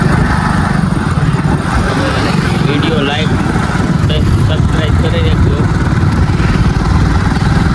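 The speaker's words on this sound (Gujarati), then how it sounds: "હવે હું બાઇક ચલાવું છું અને મારા મામા બાઇક જ બેઠો છે" A motorcycle engine drones steadily throughout, with a voice talking over the low rumble and wind noise.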